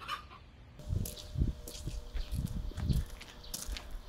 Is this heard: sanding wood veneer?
no